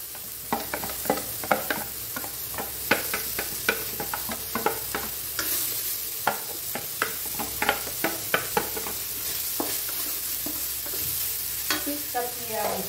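Chili and garlic stir-fry in hot oil for pork holy basil stir-fry, with loud continuous sizzling and frequent sharp, rhythmic spatula taps and scrapes against the pan close by.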